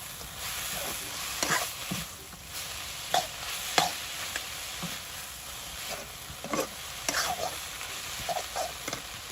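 Crab and leafy greens cook in a pan at a village kitchen, with a soft steady sizzle broken by repeated scraping stirs of a utensil at an uneven rhythm, close by.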